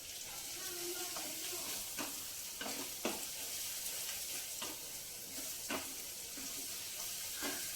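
Mutton pieces dropped into a pan of fried ginger and garlic for a drumstick curry, sizzling steadily with intermittent stirring scrapes, fairly quiet and close.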